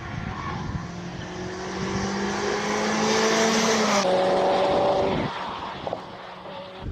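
A 2-liter 16-valve all-wheel-drive Evo attacks a hillclimb course, its engine roaring loud and close as it climbs through the gears, with a sharp gear change partway and a fading rev as the car pulls away.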